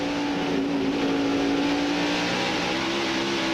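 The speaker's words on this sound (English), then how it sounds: "Tony Stewart having to get off the throttle as he came off the second corner" NASCAR stock cars race at the 2001 Sharpie 500, a loud continuous engine roar with a sustained whining drone as the pack runs past, no talk over it.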